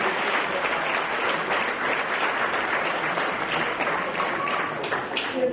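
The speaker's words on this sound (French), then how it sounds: "puis on l'applaudit très fort Tati Loda." Hands clap warmly for an honoree at a French award ceremony, steady and fairly close, with a few voices faintly beneath.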